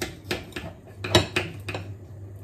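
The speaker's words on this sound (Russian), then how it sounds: "Сейчас я как филе разрежу, чтобы оно лучше, быстрее прожарилось." A knife clicks and taps against a plate while slicing a red fish fillet, a few faint scraping contacts close by in a quiet kitchen.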